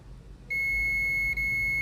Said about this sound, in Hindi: बीप कर रहा है।